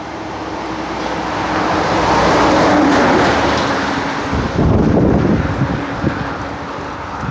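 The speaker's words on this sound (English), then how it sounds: "I don't want to get run over by this truck." Traffic on a road after a hurricane passes by, a broad roaring rush that swells and fades over several seconds, mixed with steady wind noise buffeting the microphone outdoors.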